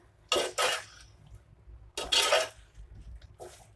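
A spoon stirs ridge gourd and soya chunk curry in a pan, giving a few quick scraping strokes in close pairs with short gaps between them.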